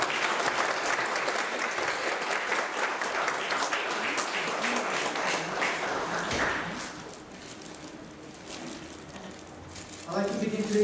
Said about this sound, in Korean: 여러분들 처음이니까 왜 큰 박수를 격려했으면 좋겠어요.